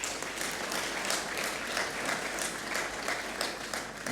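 An audience at a ceremony honouring the Portuguese President applauds in a steady, even wash of many hands clapping, fairly distant and sustained without a break.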